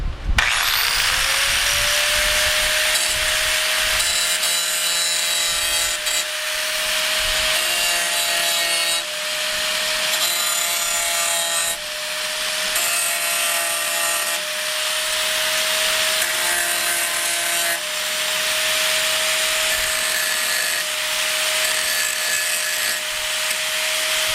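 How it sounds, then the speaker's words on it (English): A grinding wheel steadily whines against the rusty door post of a 1993 Ford Mustang GT Foxbody, taking it to bare metal. The tone is loud and close, continuous with brief dips as the wheel is lifted and reapplied. "So now I just take the grinding wheel and"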